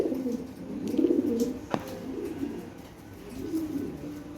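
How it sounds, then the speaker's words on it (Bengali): Toy Lahori pigeons coo in low, throaty rolling phrases, close by, repeating in soft bursts with a short click in between. "দেখার মতো টয় বিটের কবুতর"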